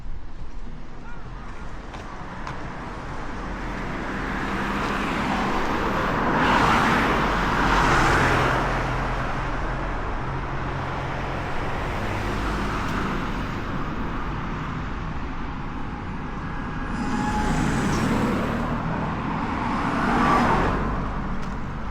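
Steady road traffic and car engine noise while driving through Misumi, Kumamoto, a continuous broad rumble with a couple of louder swells as vehicles pass nearby.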